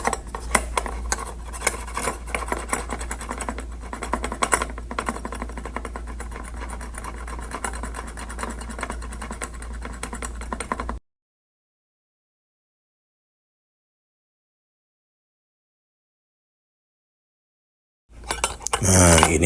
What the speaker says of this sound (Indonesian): Jadi ini sudah diparut semua si ubinya.